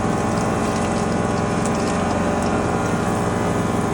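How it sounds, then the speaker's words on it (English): An automatic instantaneous hot water heater runs with a loud, continuous mechanical whir and pump-like hum over rushing water, steady and close without any speech. "It's an automatic hot water heater."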